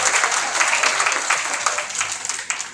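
An audience at a women's conference of the Marwari Mahila Sammelan in West Bengal claps in loud, sustained applause that fills the room, gradually thinning out toward the end.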